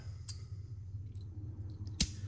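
Two sharp metallic clicks from a magnetic screwdriver bit holder, a light one early and a crisper louder snap near the end, close up over a low background hum.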